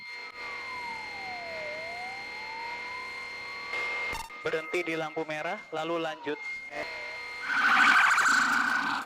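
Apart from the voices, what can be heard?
ambulance siren in traffic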